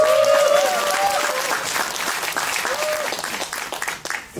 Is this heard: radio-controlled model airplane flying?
no